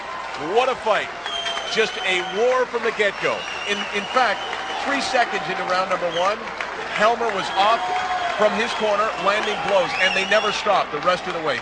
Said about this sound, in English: You can hear the crowd right now absolutely roaring